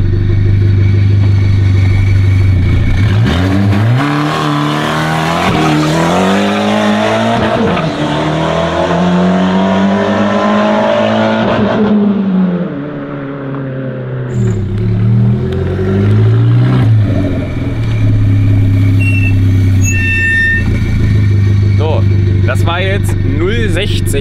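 Front-wheel-drive car launching hard from a standstill, engine roaring close and loud as it revs through the gears with rising and falling pitch, then settling back toward idle.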